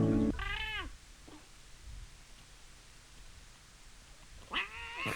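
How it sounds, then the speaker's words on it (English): A cat lets out two drawn-out, wavering meows close to the mic, one at the start and another near the end, with soft background hiss between them. "It's an emotional cat."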